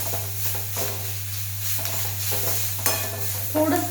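Fenugreek leaf bhaji being stirred in a pan, a soft sizzle with scraping strokes of a spoon and a louder clink near the end, over a steady low electrical hum.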